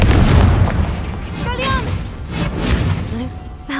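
Repeated Confringo explosion spells in Hogwarts Legacy boom and crack loudly, layered with magical whooshes and rising tonal chirps, in a dense, continuous barrage of game effects.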